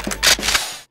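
A single sharp shot from an M-500 rifle in a multiplayer shooter game, loud and close, with a brief ringing tail that cuts off within a second.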